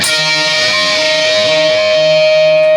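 A sustained distorted electric guitar note wavers up and down in pitch as strings are bent and released repeatedly, loud and continuous, in a lick.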